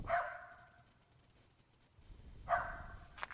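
A dog barks twice in the distance, one sharp bark at the start and another about two and a half seconds later, over faint outdoor background noise at night.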